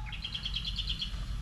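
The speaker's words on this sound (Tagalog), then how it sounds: "Sumasagot yung ano, yung ibon." A bird calls back with a quick series of high, bright chirps in a rapid repeated trill lasting about a second, clear against a low rumbling background, with no voices.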